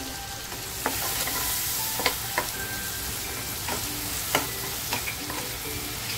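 Asafoetida tempering crackles and sizzles in hot oil in a kadhai, a dense bright frying hiss with scattered sharp spits and pops throughout, close and steady, no speech.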